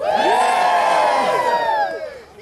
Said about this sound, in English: it sounds like an early spring crowd